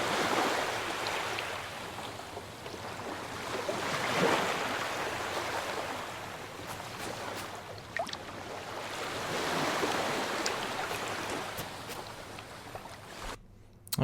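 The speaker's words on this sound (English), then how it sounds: "just add that little splash sound that we made for the boat" A small water splash for a boat within a game's environmental ambience: a continuous wash of lapping water and gentle surf with faint splashy swells, steady and moderately loud, with no voices.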